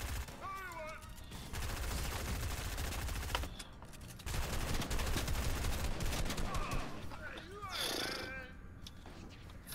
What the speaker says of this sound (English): Oh! Yeah, that's a minigun!